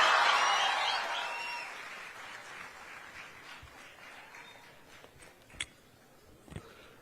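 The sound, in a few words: audience applause welcoming GV Prakash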